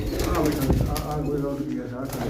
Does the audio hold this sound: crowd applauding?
no